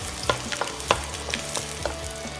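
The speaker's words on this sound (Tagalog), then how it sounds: "So first, maglalagay muna tayo ng oil sa ating cooking pan. Then, una natin isusute ang ating garlic." Garlic sautéing in hot oil in a cooking pan for bopis, with a steady sizzle and several sharp stirring or utensil clicks spread across the stretch, no voices.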